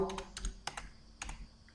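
Keystrokes on a computer keyboard, a few quick clusters of clicks with short pauses between them, close and fairly quiet, no voices.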